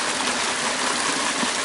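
Water sloshing and rushing in a gold pan full of material being worked while panning for gold, a continuous, fairly loud wash of water with no voices.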